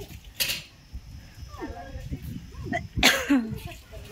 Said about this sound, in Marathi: खोकला आहे थोडा थोडा